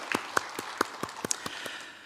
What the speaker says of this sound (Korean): 다시 한번 감사의 박수, 하나님께 영광의 박수 올려드리겠습니다.